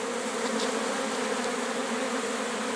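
An autumn swarm of honeybees clustered near a hive gives a dense, steady buzzing drone, close and continuous, with no voices.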